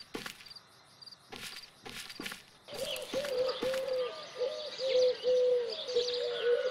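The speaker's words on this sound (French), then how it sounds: "Oh, les pigeons chutent." Pigeons in the horror video game DreadOut coo and flutter close by, a steady run of repeated low cooing calls with chirpy bird noise over a hissy backdrop, preceded by a few sharp clicks.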